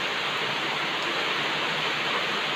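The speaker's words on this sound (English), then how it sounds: "Wow, thank you Lord for the rain." Steady, dense rain falls, a loud continuous hiss with no pauses and no voices.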